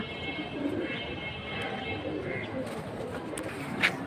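High-flying pigeons at a pigeon sale coo softly in repeated low calls against busy background murmur, with voices talking nearby.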